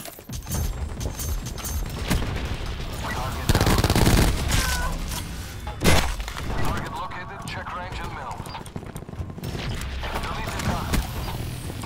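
Continuous gunfire from a Call of Duty Black Ops 4 firefight rattles throughout, loud and dense, with a few heavier blasts and a person speaking over the shooting.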